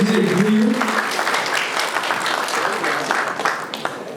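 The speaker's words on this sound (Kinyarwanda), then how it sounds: "bagukomera amashyi bose amashyi menshi cyane ku mubyeyi nk'uyu" Wedding guests clap in a sustained, dense burst of applause that carries on steadily throughout, with a voice speaking briefly at the start before the clapping takes over.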